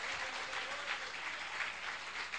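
Audience applause fills a church service, a steady, even wash of clapping from many hands that runs unbroken throughout, with no voices rising above it.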